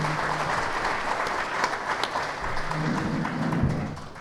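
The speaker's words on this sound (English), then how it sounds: "how about a round of applause for our panelists today?" A conference audience claps for panelists at a regional water summit, a moderate wash of applause with a few thumps and some low background hum running underneath.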